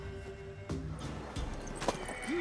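A mare in The Witcher 3 snorts and shifts with hoof thuds and a brief whinny, fairly quiet and close, with faint game ambience underneath.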